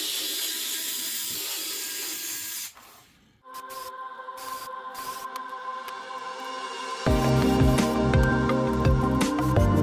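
An electric screwdriver backs screws out of a Samsung Galaxy Tab A (T510) during a battery replacement: clicking, ratcheting handling noises give way to a loud buzzing motor whir near the end.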